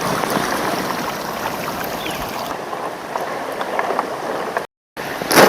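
The flooded Mandakini river at Chitrakoot rushes in a loud, continuous roar of turbulent water, steady throughout apart from a brief dropout near the end.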